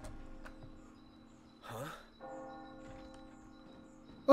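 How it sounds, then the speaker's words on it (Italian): Church bells ring in the Resident Evil 4 Remake game, a sustained tolling tone with steady harmonics held under quiet game ambience, with a brief louder swell midway and a sharp sound at the end. "sì, suona le campane"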